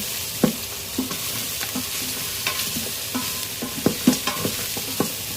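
Beef seasoned with black pepper is stirred in a pot, a utensil knocking and scraping in irregular close clicks over a soft, constant cooking hiss.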